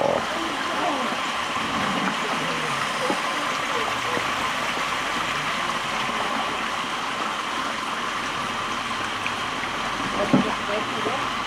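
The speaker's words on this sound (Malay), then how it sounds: "Air longkang membesar. Senang kita orang mandi kat sini. Ada mata air kat sini." Water rushes steadily through a swollen drain beside a spring at a campsite on Fraser Hill after overnight rain, a constant close gushing with faint voices at times.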